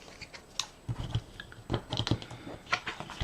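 Sharp Spellbinder scissors cutting paper or card for a project box, a series of close, crisp snips and clicks at an unhurried, irregular pace.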